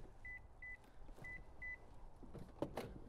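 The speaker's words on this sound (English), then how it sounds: "There's a lot of beeping" Power-folding third-row seats in a 2021 Lexus GX460 give four short paired electronic beeps inside the cabin, followed by quiet motor whirring and soft clunks as the seats drop.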